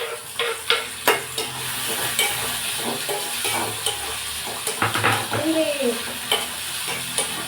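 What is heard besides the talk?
tomatoes frying and being stirred in a pan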